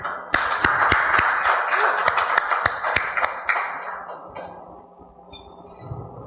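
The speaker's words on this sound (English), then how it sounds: "the sparsity of applause, I mean, it's shocking" Sparse applause from a small conference audience welcoming a speaker back to the stage, a handful of distinct, separated claps ringing briefly before quickly tapering off into near silence.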